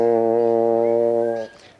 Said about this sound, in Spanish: Vamos a ver en el corno de marcha.